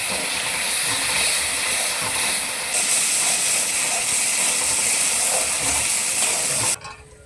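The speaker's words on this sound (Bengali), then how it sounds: "মশলার থাল্লাটাকে ধুয়ে একটু জল দিয়ে দিচ্ছি এখন মশলাটাকে কষিয়ে নিচ্ছি" Spice paste sizzles and hisses steadily in a hot pan after water is added while frying taro curry, a loud continuous broadband frying sound that cuts off abruptly near the end.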